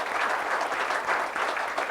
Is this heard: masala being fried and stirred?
no